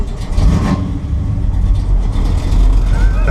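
A 1968 Dodge Charger V8 engine roars and rumbles loud and rough, with deep, throaty revving that swells and eases, heard close up.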